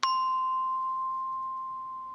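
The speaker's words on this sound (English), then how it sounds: "The Glockenspiel." One struck glockenspiel note from the Native Instruments Crate Cuts sample library, a crisp metallic ping with a bell-like ringing tone and faint overtones decaying slowly, alone in silence.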